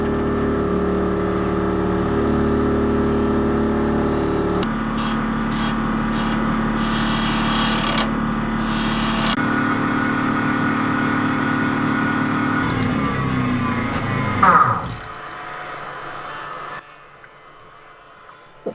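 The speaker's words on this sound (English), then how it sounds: "This scraper tool helps to give the vase its shape." A lathe in a narrowboat workshop whirs steadily while a scraper tool cuts into a spinning wooden vase, with a grinding, scraping tone, before the machine winds down and stops.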